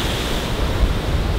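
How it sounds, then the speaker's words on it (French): Steady wind buffets the microphone on an exposed western coastal point, a constant roaring rush mixed with the wash of surf, loud and continuous with no talk. "Il y a un peu de vent quand même, vous trouvez pas?"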